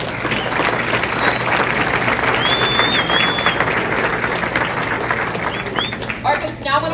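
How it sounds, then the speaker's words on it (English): Sustained audience applause and clapping fills a room at a fall sports award ceremony for cross country, soccer and volleyball, a dense steady wash of many hands with a few faint whistles on top. "Let's give it up for them one more time."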